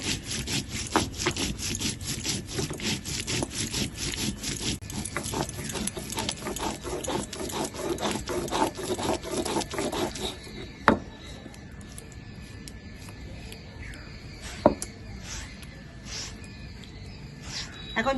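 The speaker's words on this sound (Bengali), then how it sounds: "ওই জন্য একটু জিরে বেটে নিচ্ছি" Cumin seeds are ground into paste on a grinding stone, a close, steady rasping scrape repeated in quick strokes for about ten seconds, then stopping, leaving a few isolated knocks and quiet handling.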